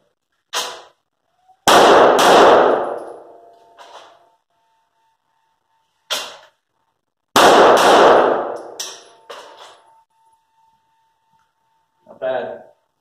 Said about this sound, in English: now we've got some first shot with this particular pistol